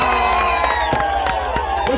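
A crowd claps and cheers at an outdoor gathering for Kenyan MP Elijah Njoroge Kururia, a steady dense roar of voices and applause throughout with sharp whoops rising above it.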